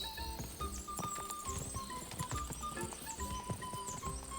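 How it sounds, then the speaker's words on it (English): Horse galloping in the medieval video game Kingdom Come Deliverance II, a rapid rhythmic clip-clop of hooves running continuously with jingling tack and game sounds layered over it. "O cavalo deste gajo não se cansa"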